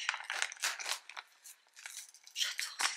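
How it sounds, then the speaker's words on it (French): Tape being peeled slowly from patterned gift wrapping, giving a run of soft crinkling and tearing rustles in short bursts, close by, with no one talking. "je fais tout doucement avec le scotch"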